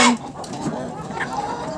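Chickens and roosters in a Ukrainian backyard flock, short clucks and a brief squawk close by amid low farmyard noise, with a person talking over them.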